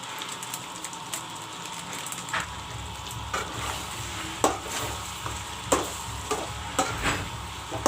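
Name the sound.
chicken frying and being stirred in a pan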